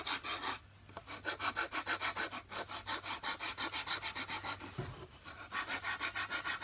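Hand file shaping a wooden snake cane stick, with steady back-and-forth rasping strokes in a regular rhythm, close and clear, briefly interrupted before resuming.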